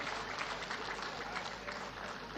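An audience at a World AIDS Day gathering in Meru applauds Minister Florence Bore with dense, continuous clapping that stays even and fairly soft throughout, with no clear individual claps standing out.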